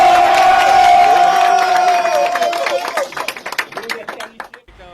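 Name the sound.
team applauding itself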